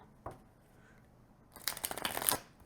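A short burst of tarot cards being riffled and shuffled, preceded by a single soft tap, fairly quiet and close.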